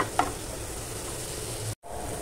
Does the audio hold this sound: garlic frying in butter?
yes